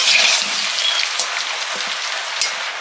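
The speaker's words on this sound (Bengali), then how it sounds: "মাংসের আলুটা ভাজছি।" Potatoes fry in hot oil for a meat curry, giving a close, steady sizzle with small crackles and pops over a few seconds, with no talk.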